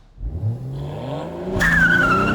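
A manual BMW Z4 M40i engine roars up in sport mode as tires squeal sharply in a rising wheel-spin screech, loud and close, with no talking.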